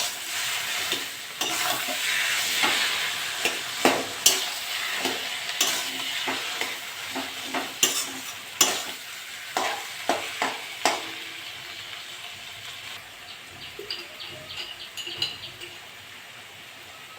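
Boiled taro leaves fry with prawns in a pan, a continuous close sizzle broken by frequent sharp scrapes and knocks of a spatula stirring against the metal, with no talk.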